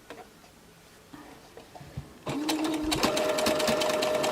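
A sewing machine stitches the gathered edge of a fabric raggy flower brooch, starting after a few quiet handling taps and then running in a fast, steady, close whirring chatter for the remaining seconds.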